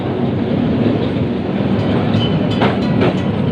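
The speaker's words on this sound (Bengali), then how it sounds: "ধীরে ধীরে ট্রামটি এগোচ্ছে।" A Kolkata tram rattles slowly along its tracks, heard from inside as a loud, continuous rumbling clatter with a few sharper clanks and jolts toward the end.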